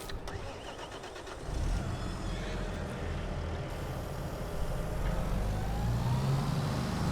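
A tractor pulling a cultivator in a farming simulation game runs with a steady, rumbling engine drone that builds slightly after a brief start-up, with no talking over it.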